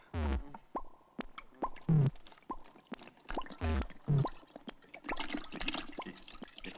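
Water is poured out for someone to drink in repeated gurgling, splashing bursts with short pauses between them, close and moderately loud.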